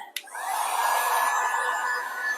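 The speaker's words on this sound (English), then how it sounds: "let's use our heat tool on that" A heat tool drying scrapbook paper for a junk journal: after a brief click it starts a loud, steady, close blowing whir that holds evenly to the end.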